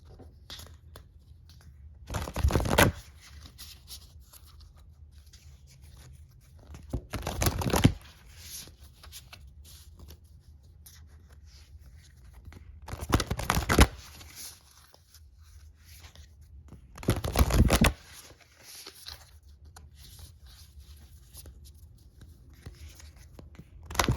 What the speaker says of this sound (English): I'm going to pull a few more cards for you from Oracle of the Hidden Worlds